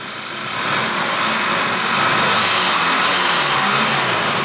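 A rebuilt Audi TT engine with a loose exhaust downpipe runs close by as a broad, roaring rush of noise, swelling slightly as it is given a few light revs.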